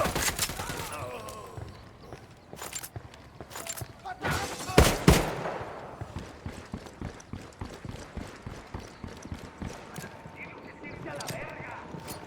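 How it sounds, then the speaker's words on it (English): Enemy gunfire in the video game Ghost Recon Wildlands: scattered sharp shots and short bursts, with two loud close blasts near the middle, amid busy game action and voices. "Bajo el fuego de armas enemigas que no sabemos."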